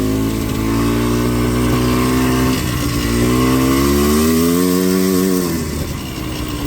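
A loud four-wheeler ATV engine runs close by, its tone rising and falling as the throttle shifts, a strong mechanical drone with no talking.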